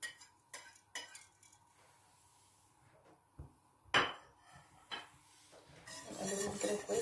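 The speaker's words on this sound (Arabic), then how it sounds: "نقلبهم كده كويس الكاكاو مع اللبن" A metal spoon clinks and scrapes against a pot or bowl while raw cocoa powder is stirred into milk, in irregular close taps and scrapes that build to a busier clatter near the end, with no talk.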